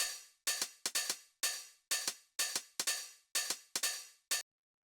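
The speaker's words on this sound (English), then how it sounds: "So basically what this is it's 2 909 hi-hats." Crisp electronic 909 hi-hats from a drum rack tick in a quick, slightly uneven rhythm, about a dozen bright metallic hits with short decays, close and isolated.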